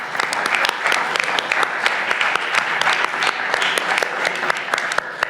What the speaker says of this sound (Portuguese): enorme salva de palmas. Eles merecem.